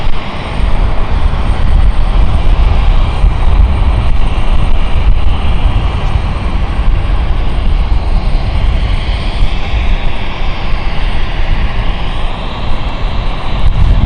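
Aircraft on the Dublin flight inbound at London City Airport, a loud, sustained engine roar close by that holds steady throughout with no voices over it.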